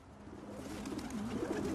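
Pigeons coo in soft, low, wavering murmurs that grow slightly louder over a steady background hiss, near and continuous with no speech.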